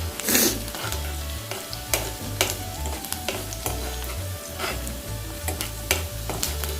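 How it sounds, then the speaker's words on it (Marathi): Onions sautéing in a pan for paneer chilli, a close steady sizzle broken by repeated scraping and tapping of a spatula in an uneven stirring rhythm, no one speaking. "कांदा फक्त ट्रान्सपरंट होईपर्यंत किंवा गुलाबी होईपर्यंत परतून घ्यायचा आहे कांदा फक्त।"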